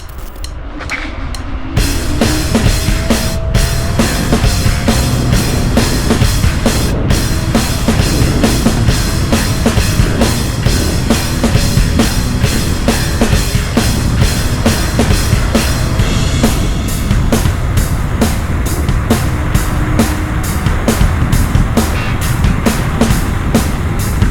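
A Kaabo Wolf Warrior 11 Plus electric scooter speeds up toward 70 km/h, heard as a loud, steady rush of wind buffeting and road roar with a faint motor whine, continuous for the whole stretch with no talking.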